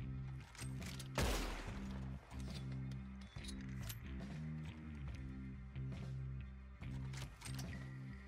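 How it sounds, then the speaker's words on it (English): Gunfire in Red Dead Redemption 2 Online, with one loud broadband shot near the start followed by scattered sharper cracks and clinks over a steady droning game soundtrack, no talking. "I'm being shot at from southwest."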